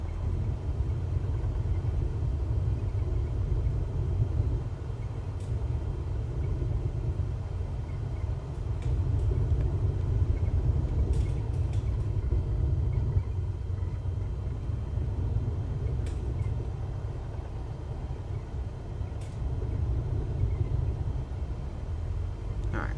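A small aircraft taxis slowly toward the hold short line at an airport, its engine producing a continuous low rumble and drone with a few faint clicks on top, and no talking.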